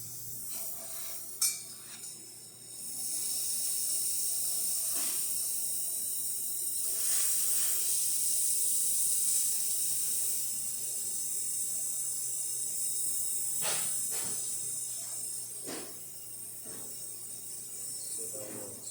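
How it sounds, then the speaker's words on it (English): The steam wand of a freshly serviced La Pavoni espresso machine gives off a long, steady, fairly quiet hiss for most of the stretch, with a few light metallic clinks and taps scattered throughout. "Let's test also the steamer."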